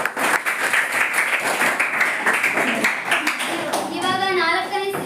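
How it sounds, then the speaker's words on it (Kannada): Tenth-grade students in a classroom quiz clap to encourage two tied teams, a lively burst of many hands close by that tapers off as a voice begins speaking near the end. "ಅವರಿಗೆ ಚಪ್ಪಾಳೆ ಮೂಲಕ ಪ್ರೋತ್ಸಾಹ"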